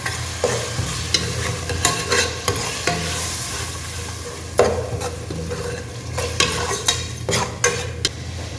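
Ginger garlic paste fries in a pot for mutton biryani with a continuous, even sizzle, while a spoon scrapes and knocks against the metal in a string of sharp, irregular strokes. A low hum runs underneath and no one speaks.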